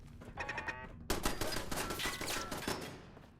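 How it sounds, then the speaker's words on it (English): Rapid automatic bursts from a turret in Fallout 4, a short stuttering volley followed after a brief gap by a longer, louder stream of shots that tails off. "That's what those turrets sound like."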